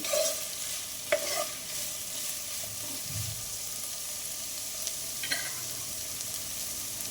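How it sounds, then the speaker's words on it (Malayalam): Beef curry is stirred in a pan, with a soft sizzle underneath and a few sharp spoon scrapes and knocks against the pan at scattered moments. "നല്ലതുപോലെ ഇളക്കി കൊടുക്കുക."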